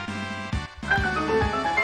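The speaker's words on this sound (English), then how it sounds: "That is the sound of unlocking this sentence" A short bright electronic chime from the game Xenoblade Chronicles 2 rings out, then a fuller rising musical jingle follows with layered tones, loud and close, no voices.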